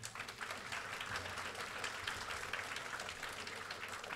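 An audience at a college Margazhi festival of Carnatic music gives faint, distant applause, a soft continuous patter of many hands lasting a few seconds.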